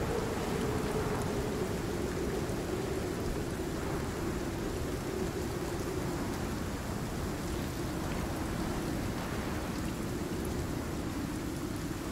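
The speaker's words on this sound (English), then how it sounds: "this isn't even that bad of a storm. It says storm incoming, but... It's just showers." Steady rain shower in the survival video game Icarus, a continuous even hiss of falling drops that holds at a constant level throughout, with no voices over it.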